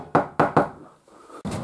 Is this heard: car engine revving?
no